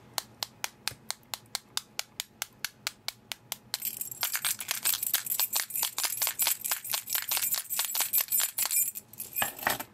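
Keys tapping against a glass screen protector on a Samsung Galaxy S3 GT-i9300, a steady run of sharp clicks that turns into loud, continuous gritty scratching for the rest of the clip.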